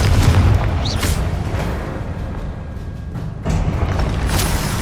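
Booming spell blasts from Hogwarts Legacy gameplay, with heavy low rumbling bursts near the start and again near the end over a continuous dense game background.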